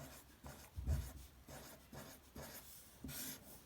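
A pen or pencil writing numbers out by hand on paper, soft scratchy strokes in short, irregular bursts, faint and close, no talking.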